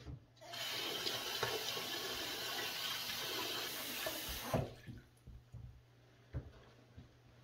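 A bathroom tap runs steadily as water is splashed on the face, a broad rushing flow for about four seconds that stops abruptly, leaving a few quieter drips and splashes.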